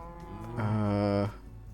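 A single drawn-out, low, tonal moo from a cow in Minecraft's Sky Factory 2 modpack, lasting under a second, fairly clear against a quiet background.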